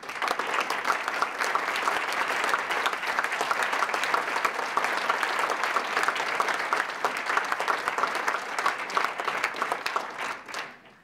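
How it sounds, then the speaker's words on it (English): Graduation ceremony audience applauding an executive MBA class, dense sustained clapping from a large crowd filling the room, fading out at the end. "so that we can thank you with a round of applause"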